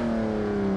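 A Toyota Supra in a brake test produces a brief, steady, loud engine drone that sags slightly in pitch over less than a second.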